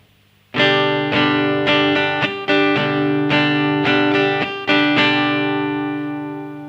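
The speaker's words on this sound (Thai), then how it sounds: "ฟังกันอีกทีเสียงปิ๊ก" After a brief silence, a ringing acoustic guitar chord is strummed with a pick again and again, crisp attacks in a steady, uneven pattern, fading at the end.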